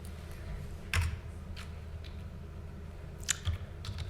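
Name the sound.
typing on a computer keyboard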